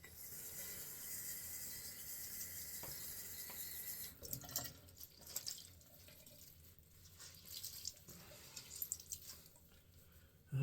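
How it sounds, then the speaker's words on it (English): Tap water runs steadily onto a rag at a sink during a wet shave, a continuous hiss close by, shifting and splashing as the cloth is worked under the stream. "Let me wet my rag."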